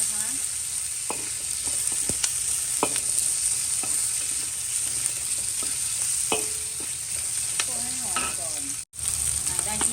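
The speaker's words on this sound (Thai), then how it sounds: "แล้วทีนี้ก็คั่วให้หอม" Steady loud sizzling of chicken being stir-fried in a hot pan for a Hong Kong-style restaurant dish, with intermittent scraping clinks of a utensil stirring, continuous throughout.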